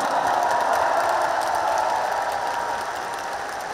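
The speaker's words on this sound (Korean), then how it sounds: "박수 한번 부탁드립니다." A seated audience at a party convention announcing a presidential candidate gives sustained applause, a steady even wash of clapping that fades slightly toward the end.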